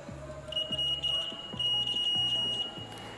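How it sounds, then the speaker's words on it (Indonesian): A steady high-pitched electronic buzzer tone from a homemade inductive metal detector, triggered by a steel screwdriver in its coil, holds for a couple of seconds over a repeating low mechanical hum, with no talking. "maka buzzer akan berbunyi seperti tadi"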